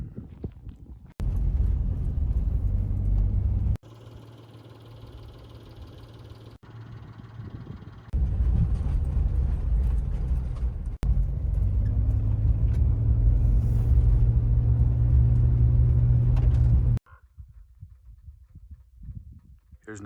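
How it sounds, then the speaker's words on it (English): An Acura SLX SUV's ticking engine runs steadily while driving in Monument Valley, a loud low rumble in long sections broken by brief cuts and quieter stretches, with no talk. "the motor is a ticking beast. It always has a ticky sound to it"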